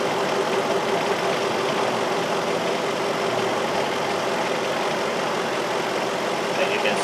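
Car engine idling during diagnosis of an intermittent random-cylinder misfire, a steady close rumble that runs unbroken and alone throughout, its idle speed rising slightly.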